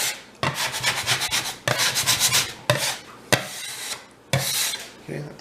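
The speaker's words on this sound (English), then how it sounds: "if you have something to scrape it with, try and get rid of most of the flour first" A tool scrapes leftover flour off a kitchen work surface while green onion cakes are being made. It comes as five or six loud, rasping strokes with short pauses between them, close and with no speech.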